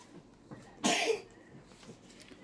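One short, harsh cough close by, standing out from a quiet room with faint background sounds.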